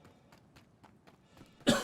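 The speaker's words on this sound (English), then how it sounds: "Pardon the cough. That was my post-nasal drip" A single sharp cough from post-nasal drip breaks through near the end, following a stretch of quiet, soft background sounds.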